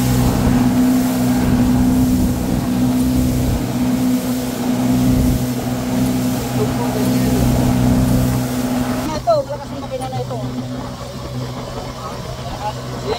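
A motorboat engine drones loud and steady close by on a fishing trip in Kawa Kawa Bay, with a low rumble and wind buffeting. It thins out partway through as the engine note drops, and voices talk over it.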